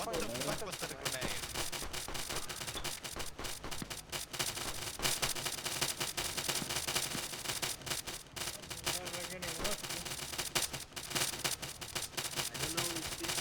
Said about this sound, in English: Whoever's shooting at him is shooting a bit too hard.